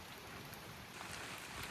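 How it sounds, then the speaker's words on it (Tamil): Rain falls steadily on the Kudremukh mountain trek trail in Karnataka, an even, close wash of drops on foliage and ground, with no voices. "நாங்கள் நடக்க ஆரம்பித்ததும் மழையும் ஸ்டார்ட் ஆகிடுச்சு."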